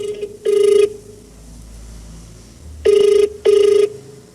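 A telephone rings during a prank call, with three short electronic ring bursts. One burst comes early, and two more follow close together after a quiet gap filled with faint background hiss.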